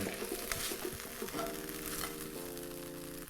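Potato noodles and vegetables being stirred together in a hot pan, giving a continuous sizzle with soft scraping and tossing sounds throughout.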